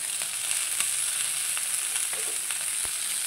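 Coriander leaves frying in hot oil while being stirred for a tomato chutney, a close, steady sizzle with light scraping taps throughout, no talking.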